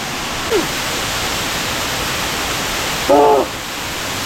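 Hanuman Gundi waterfall at Kalasa roars as a steady, loud wash of falling water, with a brief voice rising over it near the end.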